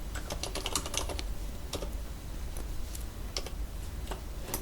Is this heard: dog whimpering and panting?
no